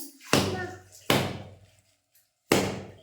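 Three sharp, heavy whacks spaced about a second apart, each a hard blow on a dense shell followed by a brief ringing decay.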